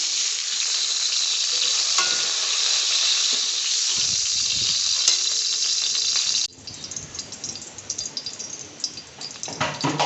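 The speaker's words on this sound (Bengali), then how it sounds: "আমাদের পটলটা ভাজা হয়ে গেছে" Pointed gourd (potol) pieces fry in hot oil in a pan with a loud, continuous sizzle. Partway through the hiss drops and turns patchier as the pieces are stirred and moved.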